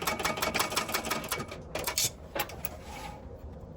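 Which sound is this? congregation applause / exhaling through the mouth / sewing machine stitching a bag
sewing machine stitching a bag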